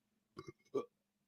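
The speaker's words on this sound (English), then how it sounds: "I felt that burp come from like right down there." A single person's burp, short and close, broken into two croaking pulses over a near-silent background.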